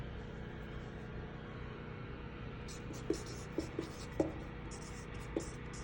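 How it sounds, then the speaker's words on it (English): A marker writing on a large AC unit outdoors, soft squeaky strokes in short bursts over a low steady hum, with a few light taps and a faint voice. "I'm gonna even write it on the unit."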